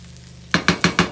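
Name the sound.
stirring egg fried rice with pak choi in pan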